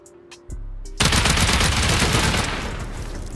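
Turret gunfire in a survival base-raiding video game, a few soft clicks then sudden loud, sustained rapid automatic fire close by, no talk.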